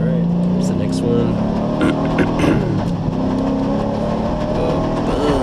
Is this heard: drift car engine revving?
yes